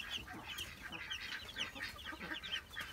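Rhode Island Red and Langshan chicks cheep steadily in a high, busy chorus of many overlapping peeps, close and moderately loud, with no talking.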